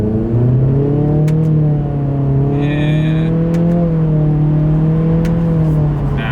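A 2026 Acura Integra accelerates hard in manual shift mode with paddle shifters, its CVT-like engine note droning loudly with rising, wavering harmonics and a few faint ticks, steady and close throughout.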